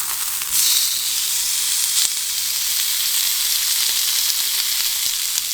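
Black Angus ribeye steak sizzling loudly in a hot pan after being flipped, a continuous bright hiss and crackle with no voices.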